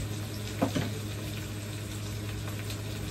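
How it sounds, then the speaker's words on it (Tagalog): Onions sautéing in a pan alongside eggplant, a soft steady sizzle and hiss running throughout, with a couple of brief stirring clatters early on, close and fairly quiet, no talking. "Isayin muna natin ng konti itong ating sibuyas. Para mag-caramelize muna siya."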